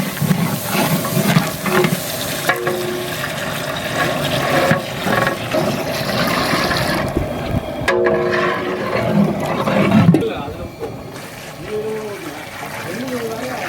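Mutton cooking water pours into a large biryani pot, a steady splashing, trickling flow over several seconds with stirring and clatter, while a person talks nearby.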